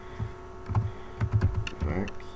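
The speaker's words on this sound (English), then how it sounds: "I'll type in the name of that one." Typing on a computer keyboard during a late-night protist lab session, a quiet irregular patter of key taps under a low electrical hum.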